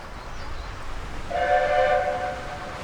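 A train on a Welsh railway rumbles along under a steady low roar, and a clear horn or whistle sounds for about a second mid-clip before the noise eases again.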